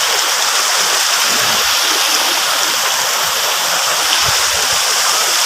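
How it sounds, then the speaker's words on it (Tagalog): Pamoyan Falls in Port Barton, Palawan roars steadily as a loud, dense wash of falling water, constant and close with no breaks. "this is the Pamoyan Falls"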